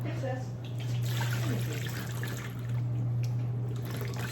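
Water runs steadily from a kitchen tap during greens rinsing, a continuous close hiss and trickle over a low hum.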